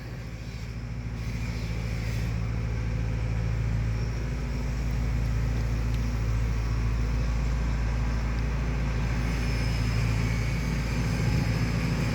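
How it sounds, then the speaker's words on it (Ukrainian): A small tractor drives past on a farm yard where machinery is being readied for winter, its steady low engine drone holding close and loud throughout with no talk. "Тютік їде."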